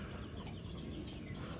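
Free-range chickens clucking on a farm in winter, a steady, close murmur of several hens with occasional louder calls, no talking.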